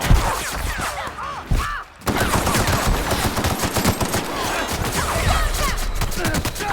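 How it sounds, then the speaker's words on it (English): Automatic assault rifle fire in The Outer Worlds video game crackles in loud, rapid bursts, with a brief pause before the shooting resumes and continues steadily. "just assault rifle works every time"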